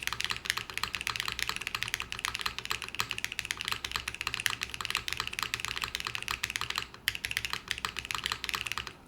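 Steady typing on a mechanical keyboard with modded spacebar presses, fast close clicks and clacks running throughout with no talking and a brief pause near the end.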